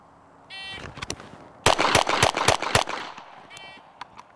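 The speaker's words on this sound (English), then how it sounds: "I'm gonna give myself 3 seconds, 3 seconds to draw and shoot 5 shots, four separate times." Pistol shots in a timed speed shooting drill: a timer beep, then five rapid, loud, close shots fired in quick succession, followed by another beep.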